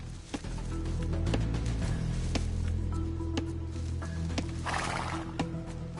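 A scout cavalry horse in Age of Empires II Definitive Edition whinnies over a low droning ambience, with scattered clicks and a brief rush of noise near the end.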